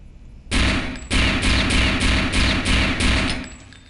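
A Colt pistol in Return to Castle Wolfenstein fires a rapid string of about seven loud, sharp shots, each one evenly spaced and punchy, with no talking over them.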